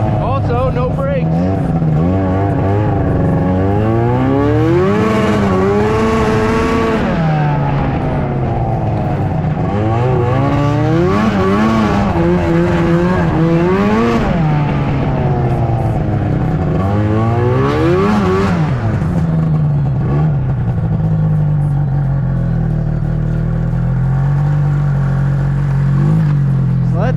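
A 2005 Ski-Doo Firecat F6 snowmobile engine with a sticking clutch runs close by, revving up and down in repeated rising and falling sweeps, loud and continuous with a rough, clattering edge.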